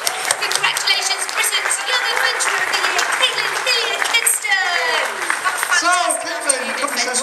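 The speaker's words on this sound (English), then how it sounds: "I'm sure everyone will join me in giving you a great big round of applause" Audience applauding at a press launch for the Zufari Ride into Africa attraction, a steady wash of clapping with a voice speaking over it partway through.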